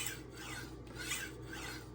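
A Ytuomzi chef knife scrapes back and forth across a coarse Naniwa whetstone in steady rasping strokes, close and even, with no voices.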